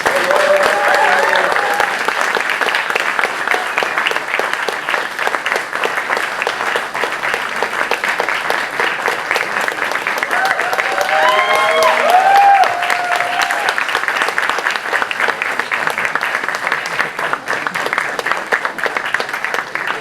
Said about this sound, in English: can we please welcome Mr. Richie Mehta on stage with a huge round of applause